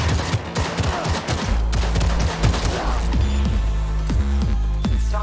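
Rapid volleys of gunfire from a Cyberpunk 2077 firefight, loud and dense with repeated sharp bursts over a low rumbling game soundscape, no talk.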